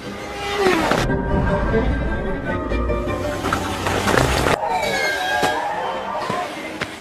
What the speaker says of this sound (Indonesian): mereka berdua terlibat kejar-kejaran dengan efek suara mobil Formula One